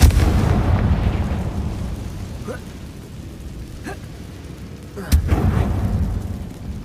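A Confringo fire spell in Hogwarts Legacy bursts with a booming blast over a rumbling game background, followed by a few sharper pops and a second loud burst near the end.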